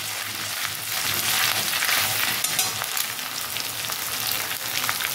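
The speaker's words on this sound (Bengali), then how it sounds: "আদা দিয়ে দিলাম বন্ধুরা। জাস্ট একটু এইভাবে ভেজে নেব।" Ginger frying in a pan for a vegetarian navratan korma, crackling and sizzling steadily up close, with bursts of hissing spatter.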